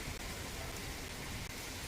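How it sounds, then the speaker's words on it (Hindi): Rain falls steadily onto a road in a dense, even hiss of drops with no gaps and no thunder, faint overall and with no voices heard. "आप देख रहे हैं किस कदर बारिश की बूंदें पड़ रही हैं"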